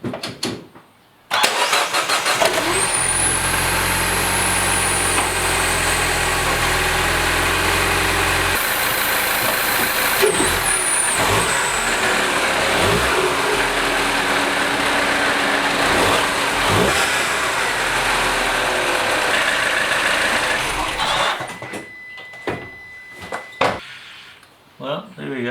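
R56 Mini with a CTS turbo intake being started, the engine catching after cranking, then revving and settling into a loud, close idle that fades out near the end.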